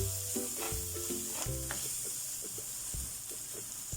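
A little cooking oil sizzles in a frying pan while a utensil stirs and scrapes, steady close hiss with rhythmic knocks and clatter, no talking.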